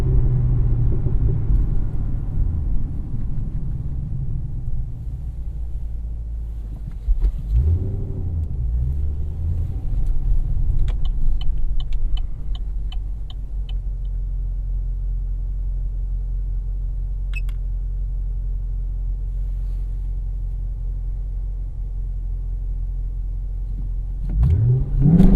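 A 2017 Chevrolet SS in performance mode with traction aids off, a deep engine rumble at idle before a roaring full-throttle launch, then steady droning, with a brief rising rev near the end.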